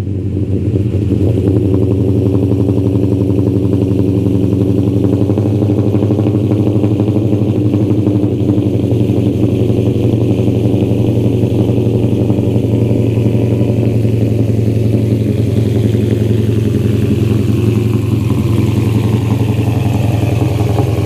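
A cammed Dodge Charger R/T V8 fires up and settles into a loud, lumpy idle with a deep steady rumble and choppy pulses, close and continuous with no talking.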